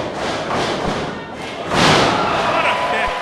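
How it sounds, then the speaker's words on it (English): A thud from a kick landing in an Atomic Championship Wrestling match, a heavy impact amid crowd noise and a commentator's talk. "What a kick."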